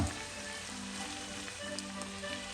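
Onion and capsicum sizzling in a hot pan, an even, faint crackling hiss throughout with a few small pops, close and steady.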